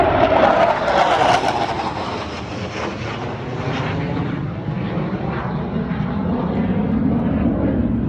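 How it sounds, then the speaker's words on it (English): F-15 fighter jets roar past in a flyby over a springs park, a loud, steady broadband jet rumble filling the whole stretch with a slight swell at the start. "I think we got like 5 flybys from these F-15s"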